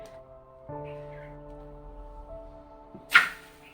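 A rolled roti, its edges brushed with water, lands on a hot tava with a single soft slap near the end, over a steady low hum in a home kitchen.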